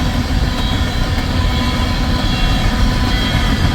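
An empty coal freight train rolls westbound at close range at Pacific Junction, Iowa, producing a loud, continuous rumbling roar of wagons and wheels that holds steady throughout.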